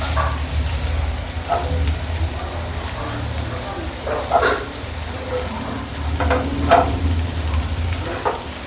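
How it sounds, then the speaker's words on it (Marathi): Soya fried rice with paneer sizzles in a hot pan while a spoon stirs and scrapes through it, giving a steady frying hiss broken by periodic scraping strokes at close range. "चांगलं मिक्स करून घ्यायचं"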